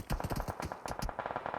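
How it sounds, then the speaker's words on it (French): Rapid bursts of gunfire in PUBG on the Livik map, during a duo tournament match, with quick repeated shots and a few separate cracks overlapping in a dense, busy exchange. "Ils se prennent des balles par Calcifer et Frozy"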